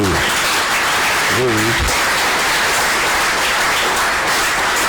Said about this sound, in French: Notre camarade Diaoufoué, que je vous demande d'applaudir